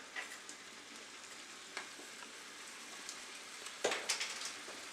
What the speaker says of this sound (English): I have my meat in a pan, and I have it pretty high, probably medium high.